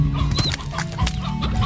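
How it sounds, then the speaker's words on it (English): Hens clucking in the Slime Rancher video game, a run of short, close clucks and chirps repeating over a steady game background with no talk. "I could grab some more hens on the way."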